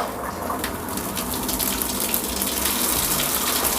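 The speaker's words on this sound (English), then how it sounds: "I've turned on the water already, and if all goes well, you should have lots of water pressure" A shower mixer tap runs at full pressure after a cartridge fix, giving a steady, loud, broadband rush of water that holds without a break for the whole stretch.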